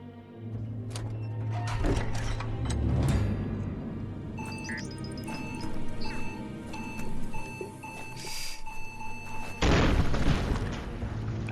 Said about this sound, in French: Oh merde, l'explosion.